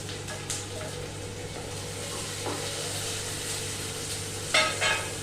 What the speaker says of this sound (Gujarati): હવે હું આમાં ટમેટો નાખું છું.